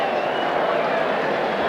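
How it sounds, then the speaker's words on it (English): A racecourse crowd roars at a 1985 horse race, a steady, loud wash of cheering that continues without break, with a commentator's voice running over it. "So the crowd roaring."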